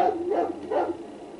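A dog in GTA San Andreas lets out two short, fairly close barks, each quick and hoarse, with a brief gap between them.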